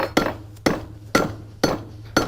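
Steel horseshoe struck with a hammer to straighten the toe quarter, five sharp ringing metallic blows in an even, unhurried rhythm, each clear impact trailing off before the next, close and loud over a low steady hum.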